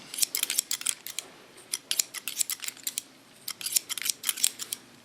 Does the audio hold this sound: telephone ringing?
no